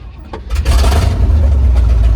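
An old, cold log truck's engine cranks and catches, rising into a loud, rough, low rumble from an exhaust in need of repair, close by.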